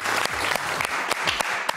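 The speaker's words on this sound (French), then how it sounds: "qu'on applaudit encore une fois très fort" Audience applause at a talent show, a steady wash of clapping with a few sharper individual claps standing out near the front.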